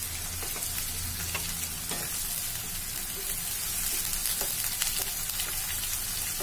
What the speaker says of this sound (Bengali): টমেটোটা দিয়ে আমি এখন ভাজা ভাজা করব।